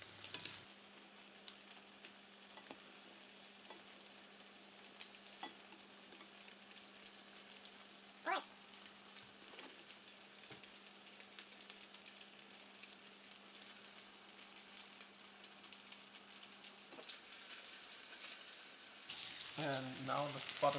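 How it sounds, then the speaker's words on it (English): Butter fries in a pan for Carinthian noodles, a steady crackling sizzle with scattered pops that grows slightly louder toward the end, with a low hum fading out partway through. "it's starting to sound like frying and not like steaming"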